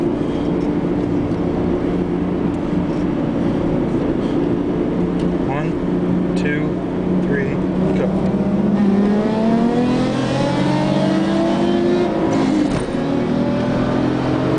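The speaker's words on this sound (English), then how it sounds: "second gear roll. Stock PGT with a couple of mods versus FrankenProbe." A modified Ford Probe GT pulls hard through a second-gear roll, engine note rising steadily as it accelerates, loud and close throughout with wind and road noise around it.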